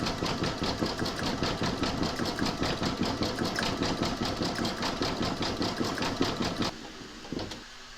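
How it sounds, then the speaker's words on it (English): An embroidery machine stitches round five, a star border in green variegated thread on a single-hooped 8x12 zodiac bib. Its rapid, regular mechanical stitching pulses run close and steady, then stop abruptly near the end. "stitch round number 5, and I'm going with a green variegated thread"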